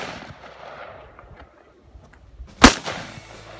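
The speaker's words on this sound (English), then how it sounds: "She's shooting for that target that's about 25 to 30 yards out." A single sharp rifle shot fired at a target roughly 25 to 30 yards out, one loud crack with a short decaying tail amid quiet outdoor background.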